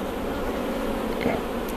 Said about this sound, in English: Now I bumped some bees there, that's the difficulty with working with big colonies.